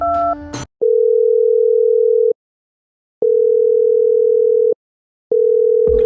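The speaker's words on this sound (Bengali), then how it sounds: "আমি এখনই শান্তরে ফোন দিতেছি, দাঁড়াও।" A telephone call is being placed. After a brief rustle, a steady electronic ringing tone sounds in three long beeps separated by short silences.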